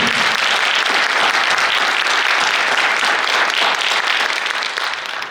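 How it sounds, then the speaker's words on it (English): Loud, dense applause from a crowd honoring new inductees at a 2019 National Honor Society induction ceremony at Thornton, sustained evenly and tapering slightly at the end. "I want to give another round of applause for our new inductees."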